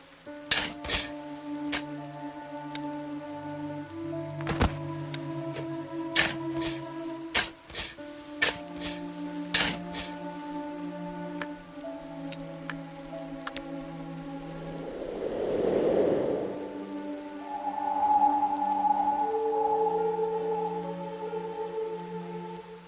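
Rain patters steadily in a farm-set mystery detective adventure game, a soft continuous hiss beneath layered musical tones, plucked notes and game effects, with a brief louder whoosh near the end.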